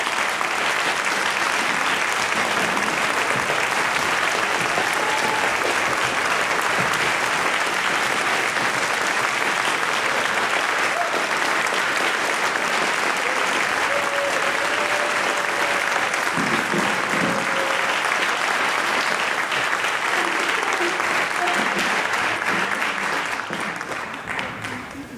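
Sustained audience applause at a spring concert, a dense steady roar of many hands clapping that fills the whole stretch at a constant loud level before easing slightly at the very end.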